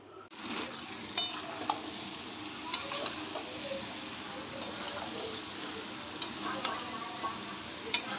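Meat frying in a pan, a soft continuous sizzle broken by sharp intermittent clinks and scrapes of a utensil stirring against the metal.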